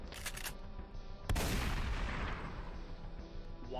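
A BFS 12 gauge shotgun fires once in Daybreak 2, a sharp sudden blast followed by a long decaying boom and rumble, after a few faint clicks at the start.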